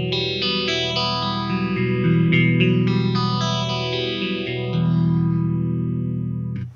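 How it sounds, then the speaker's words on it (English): Distorted electric guitar chords run through a phaser placed in the amp's effects loop, the whole amp tone sweeping slowly up and down in two broad swooshes over steady, sustained playing, with no talking. "I'm going to put a copy of my phaser in the loop and you can hear it real quick."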